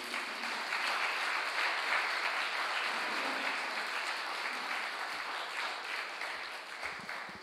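An audience claps steadily and loudly for several seconds, the applause tapering slightly toward the end.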